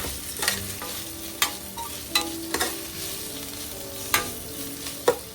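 Ginger garlic paste frying in a pan for mutton curry, stirred with a spoon in sharp scraping strokes over a steady low sizzle, several distinct clacks spaced irregularly, close and alone.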